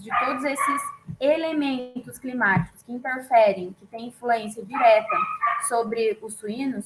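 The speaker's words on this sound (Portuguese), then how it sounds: "desculpem pelo cachorro no fundo" A dog barks and yips in the background while a person keeps talking over it, the barking mixed under the steady speech.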